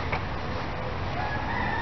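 Chickens at a wildlife rescue center crow and cluck faintly against a steady background hiss, with one rooster call standing out briefly among other birds.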